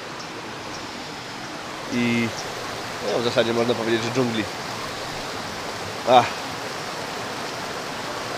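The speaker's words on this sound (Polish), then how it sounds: "rzeczka, małe wodospadziki, piękny szum wody" Steady rushing of a mountain stream with small waterfalls beside a camp of tents, a continuous broadband wash running the whole time while people talk briefly over it.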